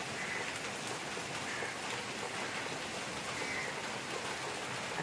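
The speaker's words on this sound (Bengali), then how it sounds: "তো তখন থেকে দেখছি বৃষ্টি হয়েই যাচ্ছে, এখনও দেখছি বৃষ্টি হয়ে যাচ্ছে" Steady early-morning rain falls on surfaces outdoors, a dense, even patter that holds at the same level throughout with no voices.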